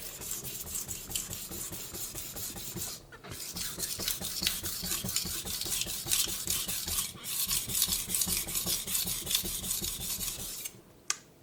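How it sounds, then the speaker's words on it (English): A knife with chipped edges is ground on a Naniwa New Omurato 150-grit whetstone in even, rhythmic rasping strokes, close and continuous, with a few short pauses between passes. "the Naniwa new omurato 150 grit. I'm going to use it now to remove some chips from this knife."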